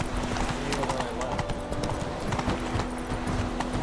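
Horse hooves clip-clop steadily as a rider travels in The Witcher 3: Wild Hunt, a close, even rhythm of hoofbeats running continuously beneath a low background hum.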